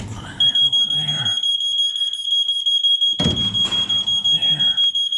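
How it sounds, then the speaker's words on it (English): A smoke detector shrieks with a continuous high-pitched alarm tone in a cabin where a wood fire is being started, sounding loudly while someone talks over it. "My smoke detector's gonna go off."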